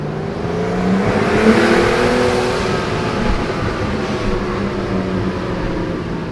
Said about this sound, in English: I just love the sound of this engine.